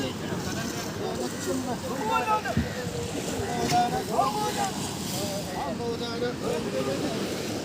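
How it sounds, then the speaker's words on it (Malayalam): A tourist speed boat on the sea at Kovalam beach passes amid wind noise and surf, its engine a muffled drone mixed with rushing water and gusts over the microphone. "ടൂറിസ്റ്റുകൾക്ക് വേണ്ടിയുള്ള സ്പീഡ് ബോട്ടാണ്."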